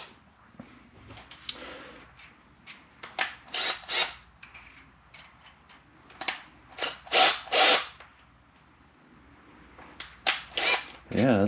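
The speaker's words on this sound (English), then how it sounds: "The battery charged up and the drill works," HART 20-volt cordless drill running in short bursts, a sharp whir spinning up and stopping several times in an uneven rhythm against a quiet room.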